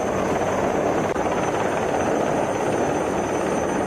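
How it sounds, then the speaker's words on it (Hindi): A helicopter hovers low over the open sea beside a ship during a rescue airlift in strong winds. Its rotor and engine make a loud, steady, unbroken roar with no voices. "थोड़ी ही देर में हेलीकॉप्टर समंदर में जहाज के पास मंडराता दिखा।"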